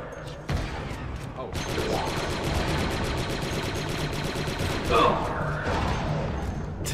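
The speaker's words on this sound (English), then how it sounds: "Cause you're getting shot at." Continuous rapid blaster fire in the Star Wars: Republic Commando game, a dense rattling stream of shots with mechanical whirring and a louder blast near the end, mixed with talk.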